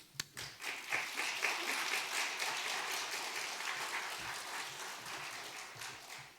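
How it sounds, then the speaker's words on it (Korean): A church congregation at a Wednesday service claps to welcome a missionary, a sustained round of applause that swells quickly after a sharp opening clap and holds steady for several seconds. "정순영 선교사님 나오실 때 환영과 위로의 박수 드리겠습니다."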